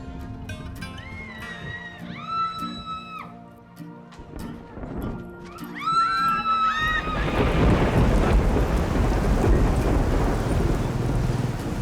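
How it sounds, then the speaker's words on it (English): A super typhoon in the Philippines with sustained winds above 200 km/h. Rising whinny-like calls come first, then a dense, steady roar of heavy rain and wind swells up and fills the rest. "This is a super typhoon, and that means sustained winds well above 200 kilometers per hour."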